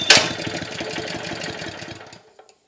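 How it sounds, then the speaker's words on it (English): Honda GX160 small engine pull-started on full choke with the throttle about halfway, a sharp start followed by a rapid chugging run for about two seconds before it dies away. "make sure the fuel's switched on, give it a full choke, and set the revs probably about halfway"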